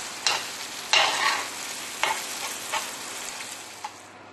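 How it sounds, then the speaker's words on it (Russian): Oil sizzles in a pan while a utensil stirs, with about six brief scraping bursts standing out over a steady hiss. "Жарим еще 5 минут и выключаем."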